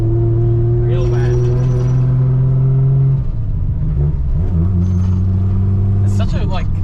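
Nissan A31 Cefiro with junk suspension and toe-out droning in a steady low engine note while driving, the pitch shifting partway through, with people talking over the rumble.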